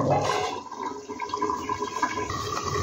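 Pabda catfish curry with ginger paste boils in a pan on a gas stove, a close, continuous bubbling and watery churning with no voices.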